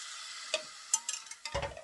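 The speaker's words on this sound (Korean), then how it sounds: "나눠서 일단 1컵 정도 넣고 덩어리 다 풀어서" Stirring porridge (jangguk-juk, Korean rice porridge with beef) as water is added in portions to dissolve lumps; a few soft scraping strokes and light clinks of a spoon in a pot, close and quiet, with no talk.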